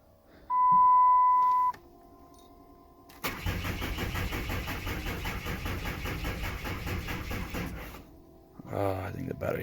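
A 3rd gen Cummins truck engine cranks on a weak battery, a loud dense churning that runs several seconds after a warning beep, then cuts out before a brief second attempt; a voice speaks faintly.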